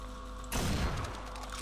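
Paintball guns firing in the Roblox shooter Mad Paintball 2, a loud burst of rapid overlapping shots that starts abruptly and fades into a steady background din, with no talking.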